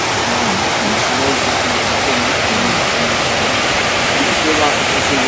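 River water rushes loudly and continuously, a dense steady roar filling the scene at a site in Ghana, with a voice speaking faintly underneath.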